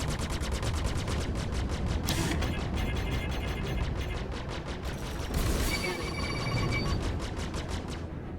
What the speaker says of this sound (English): I've just launched 3 missiles for some reason